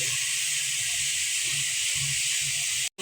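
Kalai greens with cauliflower, potato, beans, cabbage, tomato and shrimp sizzle in a pan while being stirred, a steady loud frying hiss with soft low scraping bumps, cutting off abruptly at the end.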